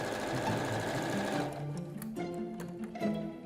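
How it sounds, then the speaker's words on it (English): A sewing machine stitches the seams of fabric blinds: a loud, continuous whirring run at first, then a quieter stretch of short, intermittent stitching bursts. "Just sewing the last few seams together so that I can get on and actually hang these blinds."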